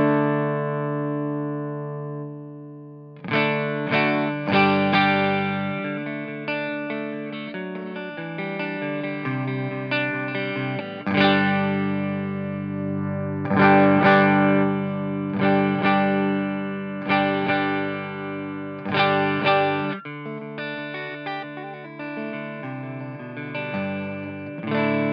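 An electric guitar plays chords and picked notes through a Reverend Kingbolt RA amp with the bass knob turned down, loud and close with repeated strummed attacks and ringing sustain over about 25 seconds.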